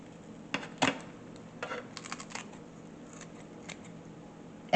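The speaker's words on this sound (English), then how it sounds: "And you just cut the breast in between." A knife cuts between the breasts of a whole raw chicken during butchering for the grill, giving a few brief crisp slicing and snipping sounds at close range against a low steady background hum, with no talking.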